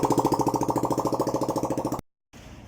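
A Yamaha R15 v3 motorcycle engine runs with its exhaust removed, a loud, raw, rapid pulsing rattle close by that cuts off abruptly, followed by a short gap of quiet.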